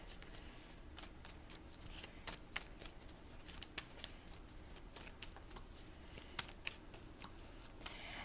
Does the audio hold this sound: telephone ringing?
no